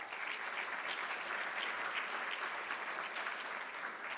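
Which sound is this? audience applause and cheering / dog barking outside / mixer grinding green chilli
audience applause and cheering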